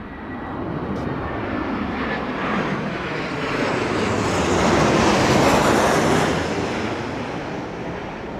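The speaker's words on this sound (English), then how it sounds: "This looks like KLM 737." A KLM Boeing 737 jet on landing approach at Heathrow during a storm gives a loud, broad roar that swells toward the middle and then eases slightly, with nothing else heard over it.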